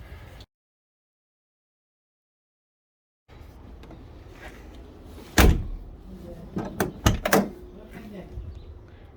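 A Land Rover Defender rear door on a newly fitted gas strut swings and thuds, with a sharp loud knock followed by a cluster of clunks and rattles, amid someone talking nearby.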